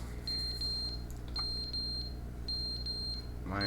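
Short high-pitched electronic beeps repeat in small bursts, faint against a low background hum, like an alarm chirping for attention; an alarm with a dead battery in the game The Stanley Parable Ultra Deluxe.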